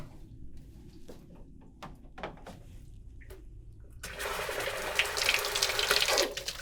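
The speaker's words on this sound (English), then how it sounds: "Last, I'll try my mop bucket fill." Water gushes steadily from a housekeeping chemical dispenser into a mop bucket, a loud continuous rush that starts abruptly partway through after quiet handling clicks and runs on to the end.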